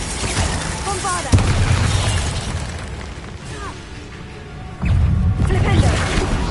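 Two heavy booming blasts of the Bombarda explosion spell in the video game Hogwarts Legacy, each a sudden loud impact trailing into rumble, with a voice heard around them.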